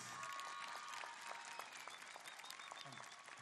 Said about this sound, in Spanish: un aplauso fuerte y cariñoso para el señor presidente constitucional de la República, Lenín Moreno Garcés